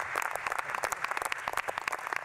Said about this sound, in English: How about a round of applause for Secretary Chao?